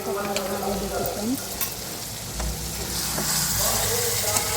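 Chicken sizzles in a hot pan for a green chicken recipe, a steady close frying hiss with occasional stirring clatter, and faint background tones underneath.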